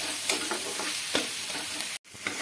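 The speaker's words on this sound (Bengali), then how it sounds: "টমেটোটা দিয়েও আমি এখন মশলাটাকে একদম লো ফ্লেমে কষাতে থাকবো যাতে টমেটোটা গলে যায়।" Masala and tomato sautéing in a pan over a low flame, a steady soft sizzle with a few light stirring scrapes, then a brief dropout near the end before the sizzle resumes.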